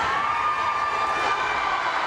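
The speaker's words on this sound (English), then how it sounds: "the crowd is going crazy" Roller derby crowd at a WFTDA championship game between Gotham and Montreal, a steady roar of cheering from a large arena audience, sustained and even throughout with no clear individual voices.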